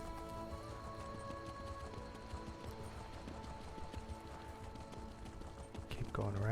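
Rhythmic clip-clop of a horse's hooves on a road while riding in a video game, steady and close with background game music and ambience, building slightly louder at the end.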